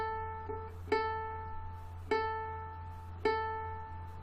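Ukulele bottom string plucked three times in slow succession during tuning, each bright note sustaining and fading, close and soft with no voices.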